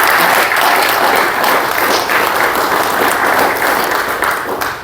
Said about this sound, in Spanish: Y un gran aplauso a Milton,